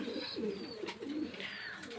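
Pakistani high flyer pigeons imported from Kuwait coo in a few soft, close, rolling calls, alone without talk.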